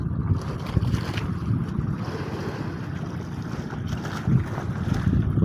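Boats out on open water, heard as a steady low rumbling wash with waves and heavy wind buffeting the microphone, and no voices.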